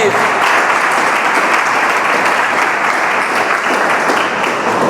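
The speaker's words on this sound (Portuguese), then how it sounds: "Aplauda o Senhor Jesus bem forte" Loud, sustained applause from a church congregation, many hands clapping hard in a dense unbroken wash close by, steady for several seconds.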